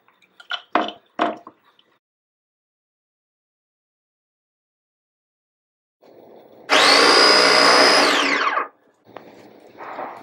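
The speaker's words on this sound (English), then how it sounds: "we just plain blend the tomato" A kitchen blender whirs loudly for about two seconds while pureeing tomato, cutting off abruptly, with quieter handling noises and a short lower motor run following; brief clattering sounds come before it.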